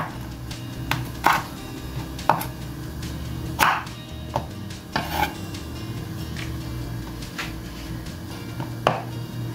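A knife chops okra on a cutting board for salmon-head sinigang, giving about a dozen crisp, irregular knocks spread over several seconds against a low kitchen background.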